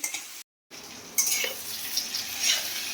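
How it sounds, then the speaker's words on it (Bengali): Spices sizzle steadily in hot oil in a pan while a spatula stirs them, a close continuous hiss with scraping strokes and a brief dropout near the start. "এটা একটু ভেজে নিই।"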